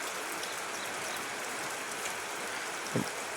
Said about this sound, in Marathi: पाऊस चालू आहे जोरात मुसळधार